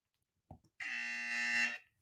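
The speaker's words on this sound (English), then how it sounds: "I will then check that the buzzer works." A podcast studio buzzer is tested once: a single steady, loud electronic buzz lasting about a second, preceded by a couple of soft knocks, with no talk over it.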